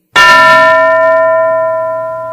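A classroom bell is struck once, a loud, close metallic ding with a sharp attack and a long ringing tone that slowly fades.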